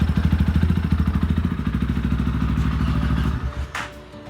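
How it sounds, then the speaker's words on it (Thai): A GPX Razer 220 motorcycle with about 18,000 km on it idles loudly up close with a fast, even thumping pulse that smooths out, then ends with a brief metallic clank and the engine note dropping away. "ก็จะประมาณนี้เสียงเครื่องยนต์ของเขา"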